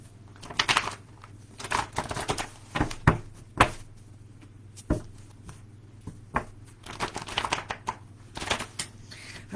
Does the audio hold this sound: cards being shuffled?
yes